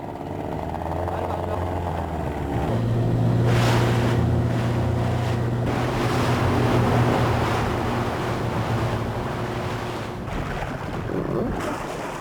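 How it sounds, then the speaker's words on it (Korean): Motorized rubber boat powered by an engine rated for 90 km/h, racing across the sea toward the shore during UDT SEAL training, with a droning engine amid wind buffeting and splashing waves and some voices. "고무보트를 이용해 최대한 신속하게 해안 가까이 접근해야 한다"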